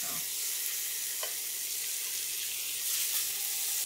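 Pork chops frying in a pan give off a loud, continuous sizzle that swells slightly as they are turned, with faint clicks of a utensil underneath.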